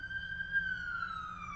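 An emergency siren passing in the background, a single sustained wailing tone sliding slowly downward over a low traffic rumble, moderately loud and steady.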